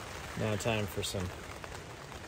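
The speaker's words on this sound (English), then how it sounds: "got in the tent, and here comes the rain" Rain patters onto a tent during a climbing trip at Katahdin, a soft steady hiss of drops continuing beneath someone speaking briefly in the foreground.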